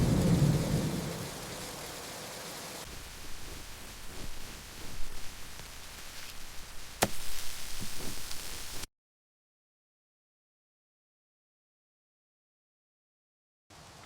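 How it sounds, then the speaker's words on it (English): Monsoon rain falls in a Telangana village, with a low rumble of thunder early on, then steady quieter rainfall and one sharp crackle before the sound cuts out and returns faintly at the very end. "The rain makes it even more comforting."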